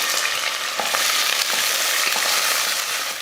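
Sliced onion frying in sesame oil with cloves, cinnamon, kalpasi, bay leaf and curry leaves for a chicken salna: a dense, continuous crackling sizzle with scattered stirring scrapes, close and fairly loud, with no voice.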